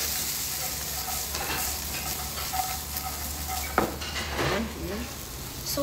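Tofu, sayote and carrots being stir-fried in a pan under a constant, close sizzle and hiss, with occasional spatula scrapes and clinks against the pan and no voices.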